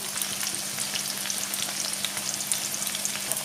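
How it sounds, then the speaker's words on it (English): Onions fry steadily in plenty of hot oil, giving a continuous close, crackling sizzle with dense fine pops and occasional stirring clatter, no voices. "We're gonna fry these onions till it is light brown in color"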